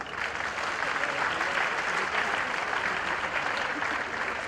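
An audience claps at a World Wetland Day event at the Sirpur Ramsar site, a dense, steady wash of applause sustained for several seconds at fairly close range.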